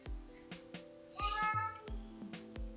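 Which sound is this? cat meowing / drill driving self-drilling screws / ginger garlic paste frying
cat meowing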